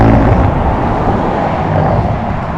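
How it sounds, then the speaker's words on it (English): Roadside traffic rumbles loud and steady at a sign installation site, cars rolling over the lane line with a broad, continuous roar and no voices. "those cars are loud, running over the line"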